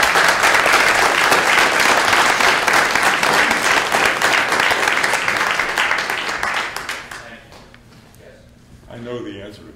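A town meeting audience applauds in a hall, a dense steady burst of clapping for several seconds that thins and fades out, with a few scattered claps and faint voices afterward.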